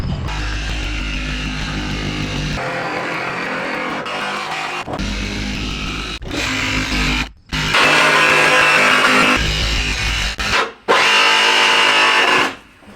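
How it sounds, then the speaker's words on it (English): Jigsaw cutting a hole through a campervan roof for a Maxxair fan, a loud steady buzzing saw run in several long stretches broken by brief pauses, close and alone with no talk. "you can take the jigsaw and start going at it"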